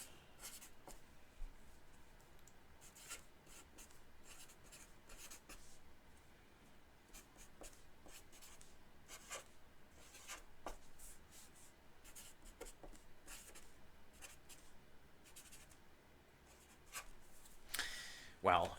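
A pen scratches across paper in steady short strokes, quiet and close, while someone writes out notes on post-WWII US–Russian relations.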